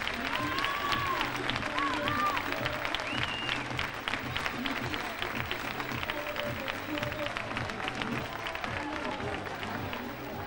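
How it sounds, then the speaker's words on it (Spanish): Applause from the audience at a municipal dance school show during the Manilva fair in 2003, steady clapping from a large crowd that runs the full length, with melodic tones and background voices mixed in. "con un fuerte aplauso"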